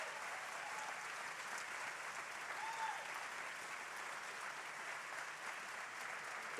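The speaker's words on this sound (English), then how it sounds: "So please give Molly applause, and Nate Cohen," Steady, dense applause from a festival audience greeting Molly and Nate Cohen at Ebertfest, a continuous even wash of clapping from many hands that holds at the same level throughout.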